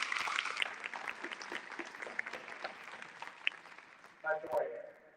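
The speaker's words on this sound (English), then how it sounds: "can we offer a round of applause to our panel being brave and knowledgeable and serving" A community audience gives a panel quiet, fairly distant applause that thins into scattered claps, with some talking and a brief louder burst near the end.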